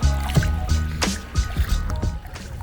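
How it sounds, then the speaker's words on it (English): A tandem kayak is paddled along calm water around an island, with close rhythmic paddle strokes dipping and splashing about every half second and water trickling off the blades. "I'm doing all the steering and the paddling."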